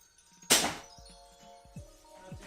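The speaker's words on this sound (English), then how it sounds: "to reload it, you literally just push it forward and then pull it back again" A Nerf blaster is pushed forward and pulled back in a sharp plastic clack, then a few lighter knocks and slides follow, close and dry.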